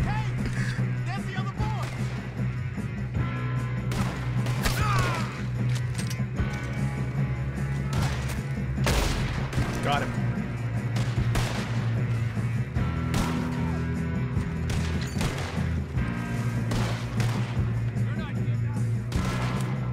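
Rapid gunfire in Red Dead Redemption 2 during a train robbery: repeated sharp shots and bursts crackle throughout over a low rumbling bed, with a player talking now and then beneath the battle.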